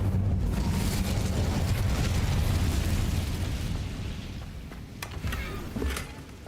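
An Incendio fire spell cast in the video game Hogwarts Legacy bursts out as a loud, dense whooshing roar of flame. It slowly fades, with a few sharp crackles near the end.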